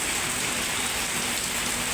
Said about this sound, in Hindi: अभी देखिए कितनी तेज़ बारिश हो रही है